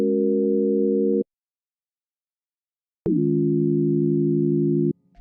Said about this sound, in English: I set the first oscillator to be a sine wave,